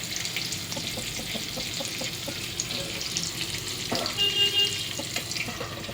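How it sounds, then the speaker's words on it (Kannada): Food frying in oil in a pan, a continuous close hiss and crackle with faint scattered pops, steady throughout. "ಇದು ಭೀ ನೋಡಿ ಎಷ್ಟು ಚಲೋ ಮಸ್ತ್ ಫ್ರೈ ಆಗೈತೆ"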